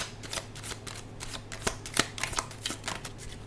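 A deck of tarot cards is shuffled by hand for a reading, making close, crisp riffling and slapping sounds in uneven bursts over a quiet background.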